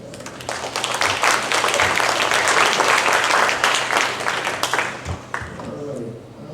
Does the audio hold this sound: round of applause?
yes